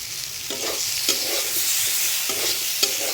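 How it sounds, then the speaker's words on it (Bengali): Chopped tomato sizzles in a pan for a cucumber curry while a spoon stirs it, giving a constant frying hiss punctuated by regular scraping strokes about every half second, close and fairly loud. "টমেটোটা দিয়ে আর একটু নাড়াচাড়া করে আমি এটাকে রান্না করে নেব"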